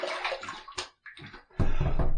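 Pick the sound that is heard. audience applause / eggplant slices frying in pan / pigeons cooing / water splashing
water splashing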